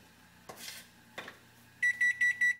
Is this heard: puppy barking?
no